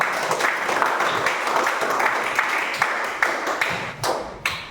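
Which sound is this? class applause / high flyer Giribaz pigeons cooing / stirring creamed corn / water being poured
class applause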